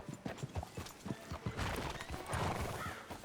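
Horse hooves clip-clopping in a steady rhythm with a whinny in Red Dead Redemption 2, close and fairly loud over a busy rainy game background.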